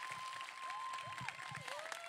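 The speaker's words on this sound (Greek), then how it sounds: "Ελίζαβετ Πρωτοπαπά, Κωνσταντίνα Κουταλιανού, το χειροκρότημα σας" Applause from the audience at a Hairspray musical performance: a steady, fairly faint wash of clapping fills the whole moment, with a thin whistle-like tone weaving over it.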